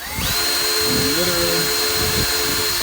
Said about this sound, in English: basically I just take the drill bit, get it in the hole